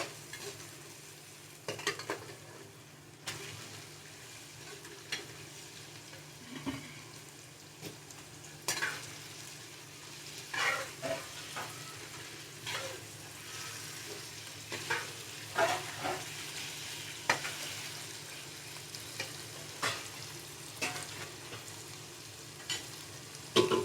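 Mutton liver (kaleji) frying in a masala with ginger-garlic paste, a continuous soft sizzle broken by repeated spoon stirs and scrapes against the pot, close and moderately quiet with no voices.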